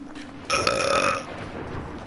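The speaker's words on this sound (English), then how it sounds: "Burp." One loud, drawn-out burp rises abruptly and rasps for nearly a second before trailing off, close and clear against a faint background.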